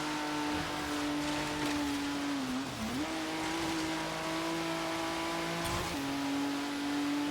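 Race car engine in Forza Horizon 3 holding a steady high drone, dipping briefly with a gear change and then resuming at high revs, loud and continuous with no voices.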